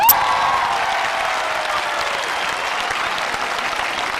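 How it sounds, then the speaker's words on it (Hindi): A crowd applauds loudly and steadily at an awards event, dense clapping that holds the whole time without letting up. "आप अपने लिए एक बार जोर से तालियां बजा दीजिए"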